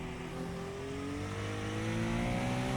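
A race car engine in iRacing climbs steadily in pitch as it accelerates on worn tyres, a continuous close, loud drone with no talking.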